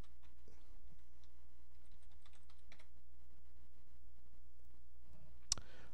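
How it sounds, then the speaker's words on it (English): A password is typed on a computer keyboard in quick, light key clicks that come in scattered bursts over a steady low hum, ending with a single sharper key strike. "I type in rejoice host password"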